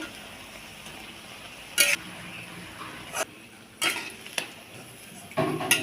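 Egg-dipped bread slices fry in a pan with a steady sizzle, broken by several louder scrapes and clinks of a utensil against the pan.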